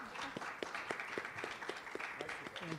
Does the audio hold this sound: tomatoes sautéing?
no